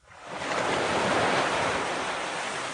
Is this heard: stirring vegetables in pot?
no